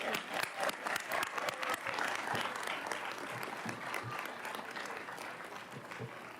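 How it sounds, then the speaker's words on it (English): Applause for retirees at a Board of Education public session: a dense, steady round of many hands clapping from the audience, sustained and fairly loud throughout, gradually easing slightly toward the end. "How about another round of applause for our retirees?"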